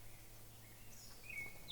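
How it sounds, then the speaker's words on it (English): Faint birdsong drifts over a quiet lakeside setting, a few thin calls rising above a soft low hum without speech. "You listen to the birds. You listen to nature."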